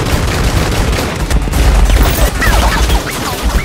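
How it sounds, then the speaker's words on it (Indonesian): A loud, chaotic burst of gunfire, many rapid shots overlapping in a close, continuous exchange with booming impacts. "Ethan pun terlibat tembak-tembakan dengan anak buah Shen"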